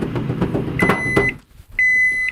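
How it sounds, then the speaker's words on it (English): A microwave oven runs with chocolate inside, humming with soft clatter. Sharp electronic beeps sound twice, and after a short quiet gap a steady high beep tone starts. No voices. "The microwave. Let's toss it in for a minute."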